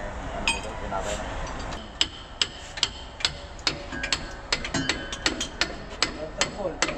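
Hammer strikes ring out on metal parts in a car repair shop, with repeated sharp clinks falling into a steady rhythm over shop noise and faint voices.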